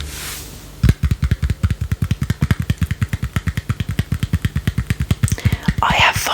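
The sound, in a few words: racing engine sound from Sega Game Gear video game Super Monaco GP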